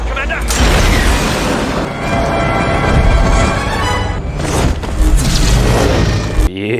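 Loud booming explosions from an animated Star Wars The Clone Wars episode set during the Siege of Mandalore, heavy rumbling blasts layered with battle noise and score, ending abruptly.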